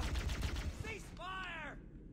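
Gunfire in the video game Halo comes as rapid automatic bursts early on, mixed with game sound effects and tonal electronic blips, while a person talks over it.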